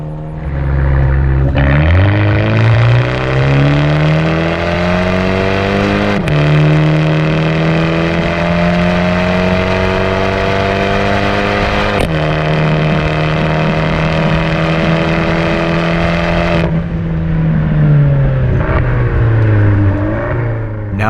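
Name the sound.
Abarth 124 Spider accelerating from 40 to 100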